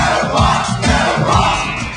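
Roaring crowd noise layered onto a record over a drum beat and a Doctor Who riff, loud and continuous, with thumping low rhythm beneath the cheering mass of voices.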